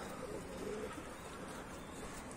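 Domestic pigeons cooing at a loft with its coop open, as a returning bird lands on top of the coop; soft low coos repeat steadily over a constant background hiss, close and moderately quiet.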